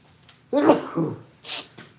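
A single sharp sneeze bursts out near the start, followed by a softer breathy sound and a faint exhale afterward.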